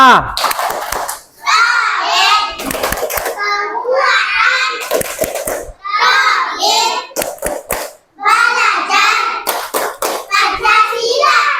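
Indonesian schoolchildren perform the 'tepuk P5' clapping chant in a classroom, chanting in unison while clapping in a steady rhythmic pattern, sharp claps punctuating the voices throughout, close and loud.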